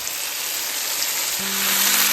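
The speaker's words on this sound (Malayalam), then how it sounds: "രണ്ട് സൈഡും ഒന്ന് സീർ ചെയ്ത് ആ പാൻ ഫ്രൈ ചെയ്തെടുക്കണം കേട്ടോ" Chicken pieces searing in a hot pan for a restaurant-style Kerala chicken roast, a steady close sizzle of frying with a low tone entering partway through.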